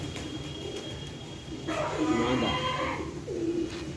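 Pigeons in a loft give soft, throaty cooing at close range, a low rolling coo followed by a shorter one. A voice speaks a single word briefly.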